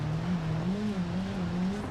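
A car engine in BeamNG.drive revs up and down in wavering pulls, a steady close motor drone rising and falling in pitch over a couple of seconds with no voices.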